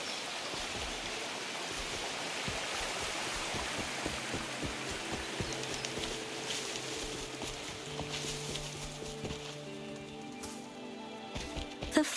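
Waterfall and flowing stream ambience in the video game Wuthering Waves: a continuous, full rush of splashing water, steady and fairly close, with a faint tonal hum rising toward the end.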